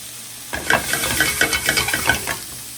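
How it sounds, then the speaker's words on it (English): Diced jalapeños stirred in a hot pan for a Brooklyn-style cheesesteak: after a brief silence, loud close sizzling starts, broken by rhythmic scraping strokes of the utensil across the pan, with no voices. "You're gonna continue to stir because you want everything to cook."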